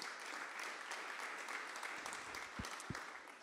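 Audience applause at an evening presentation event, steady dense clapping held at a fairly quiet level throughout, with a couple of low thumps near the end.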